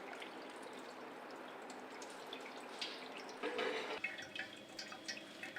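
Curdled milk for fresh cheese pours over a reed mat set on a container, with whey trickling and dripping steadily through it; the wet splashing swells briefly toward the end, close and moderate in level, with no talk.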